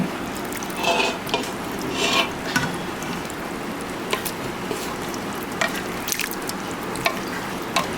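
Meat for tehari sizzles and crackles in a hot pot, with scattered splashes and scraping stirs over a steady frying hiss.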